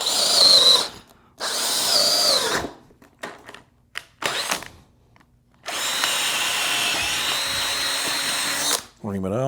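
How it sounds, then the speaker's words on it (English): A power drill bores a hole slightly larger than 7/16 inch for a Christmas tree display, whining in several bursts, some short and some sustained, biting into material with pauses between. "so we go drill a little bit bigger than that."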